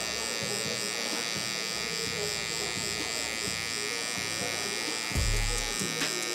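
Electric hair clipper fitted with a half guard, lever set halfway, cutting hair during a high taper haircut; a steady close buzz runs throughout, with a brief louder low hum near the end.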